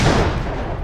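Grenade blowing up in the turn-based artillery video game Worms Reloaded, one loud, close blast that spreads into a rumbling roar and fades within a second.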